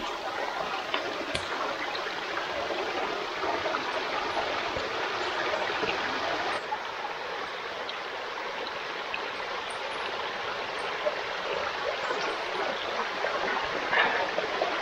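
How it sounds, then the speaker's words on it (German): A mountain stream in the Alps rushes in a continuous broadband wash, steady and fairly close, with no voices. "Neues Bergwasser gefunden."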